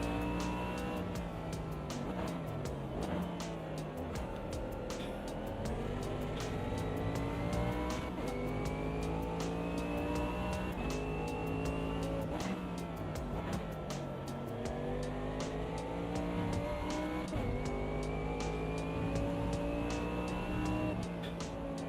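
A race car engine in a racing video game drones and revs continuously through a four-wheel drift, its pitch rising and falling steadily with faint tyre noise and no talk.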